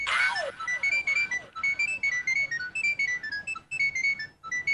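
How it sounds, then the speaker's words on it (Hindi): Phone ringtone on a Hindi TV comedy set, a repeating electronic melodic trill in short bursts with brief gaps, clear and close. "गोल्डी को फोन करता हूँ"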